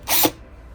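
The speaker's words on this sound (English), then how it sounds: "First, I'm gonna start off with a smaller drill bit." A small drill bit bores into a carbon fiber car hood on a Subaru WRX, giving a short, loud, close whirring burst that stops abruptly after a fraction of a second.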